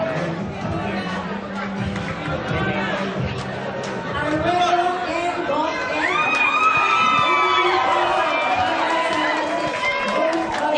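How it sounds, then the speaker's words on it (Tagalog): Crowd at Caloocan City Hall cheering, shouting and clapping during an election proclamation of winning candidates, a loud continuous mass of voices and applause that swells midway, with whistles and excited shouts above the babble. "Evan, Vicky, Mel, puno ng hiyawan at palakpakan dito ngayon habang formal ngang pinoproklama rito sa Caloocan City Hall ang mga nagtagumpay na kandidato"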